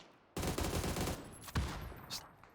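Rapid gunfire in a PUBG esports match, a dense burst of shots starting sharply and running for over a second, then a single loud crack and scattered fainter shots trailing off.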